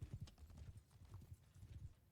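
Horse hooves clip-clop in a video game, a quick rhythmic run of soft, low thuds at moderate distance, heard on their own without talk.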